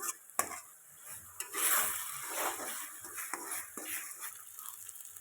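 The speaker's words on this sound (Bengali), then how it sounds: "মশলাটা আর একটু কষিয়ে নেবে চিতল মাছের তেল ঝাল" Masala frying in oil for a Bengali chital fish tel jhal curry, with continuous soft sizzling and stirring plus occasional sharp scrapes of a spatula against the pan.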